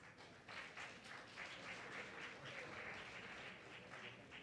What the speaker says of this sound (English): Once again, we give a round of applause to Marlon.